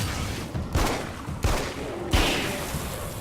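Slow-motion gunshots in Alan Wake's American Nightmare: three or four heavy, drawn-out shot blasts come at roughly even intervals, each decaying into a low rumble.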